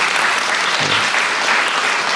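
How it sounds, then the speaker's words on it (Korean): A public forum audience in northern Gyeonggi gives a round of applause for visiting lawmakers, the loud, continuous clapping holding evenly from start to finish. "박수 한번 부탁드립니다"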